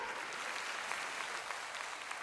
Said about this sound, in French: Mais applaudissez pour mon président.